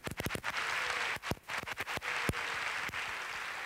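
Audience applause at the opening of a Rock Choir presentation evening in Alcorcón, with dense clapping, sharp individual claps and short dips in intensity, and no voices over it.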